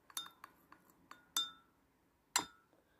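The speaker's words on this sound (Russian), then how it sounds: "Перемешиваем." A spoon stirs olive oil into a drink in a glass, giving a series of light, quick clinks against the side with a louder ring near the end, quiet and close.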